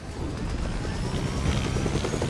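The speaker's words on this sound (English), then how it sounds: "We're going to the helicopter." Helicopter in the Fortnite video game, a steady whirring rotor drone at moderate, even level throughout, alone without speech.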